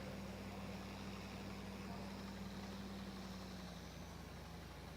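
John Deere 1070 Ag King tractor, 110 horsepower with a standard shift transmission, running as gears are shifted in a tractor parade, a steady low engine drone at moderate distance with no voices.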